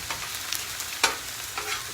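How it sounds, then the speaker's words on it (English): Spatula cutting and scraping through tender fried cabbage in a sizzling pan, a steady frying hiss broken by a few close, brief scrapes and taps. "Just take the spatula right there. See that? Cut right through."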